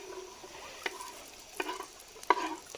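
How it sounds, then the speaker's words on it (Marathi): Onion and tomato fry in a pan for a chicken dish, a faint steady sizzle broken by three sharp stirring scrapes against the pan. "कांदा थोडासा भाजू देत, मग टोमॅटो टाकूया."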